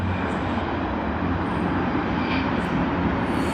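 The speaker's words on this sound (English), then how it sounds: "There you have the Boeing 787-9 of ANA, all Nippon Airways." ANA Boeing 787-9 at Sydney Airport, a continuous broad engine roar holding steady and loud throughout, with no break or fade.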